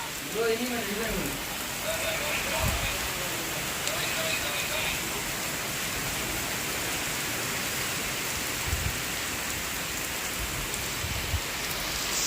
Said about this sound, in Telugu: గాలి వాన ఒకటే వాన బయట చూడండి